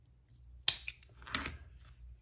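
Scissors snip through crochet yarn in one sharp, close cut, followed by a fainter second snip and a soft rustle of handling, against a quiet background.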